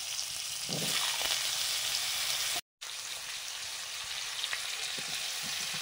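Greens frying in hot oil with five-spice seeds and potatoes give a steady close sizzle, with a few stirring scrapes. There is a short silent gap midway, and no one speaks.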